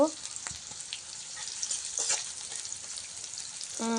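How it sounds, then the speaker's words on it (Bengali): Onions, chilies and garlic fry in oil with a quiet, crackly sizzle and scattered small pops, a short tonal clatter near the start and again at the end. "পেঁয়াজ, মরিচ, রসুনগুলোকে তেলের সাথে ভালো করে ভেজে নিতে হবে।"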